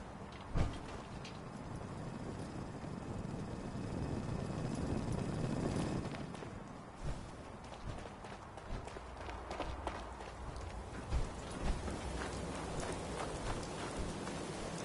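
Rain falling in Fallout 4, a steady dense hiss of rainfall with scattered footsteps and occasional thuds, moderately quiet and continuous throughout.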